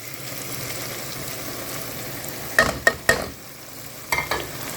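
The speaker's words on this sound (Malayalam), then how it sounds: "ഇതെല്ലാം കൂടി ഒന്ന് നല്ലോണം ഒന്ന് മിക്സ് ആക്കിയിട്ട് ഒന്ന് ഫ്രൈ ആക്കി എടുക്കുക" Egg masala with ketchup and spice powders mixed and fried in a pan, a low steady sizzle, then a few sharp spoon clinks and scrapes against the pan near the end, close and wordless.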